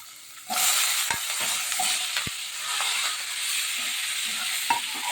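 Flat beans tipped into a pan of frying black cumin and green chilli set off a sudden loud sizzle that holds steady, broken by a few sharp clicks of a stirring utensil on the pan.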